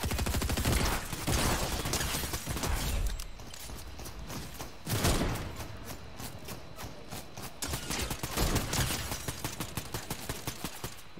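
Assault rifle fire in Fortnite, rapid loud bursts of automatic shots repeating in clusters with short pauses, dominating the clip with little talk.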